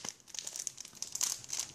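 Plastic wrapper of a Pokémon Call of Legends Deoxys booster pack crinkles close up as it is pulled open, a continuous crackly rustle with sharp little crunches lasting under two seconds.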